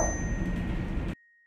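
A single bright notification bell ding rings out clearly, sustaining briefly before cutting off abruptly to near silence.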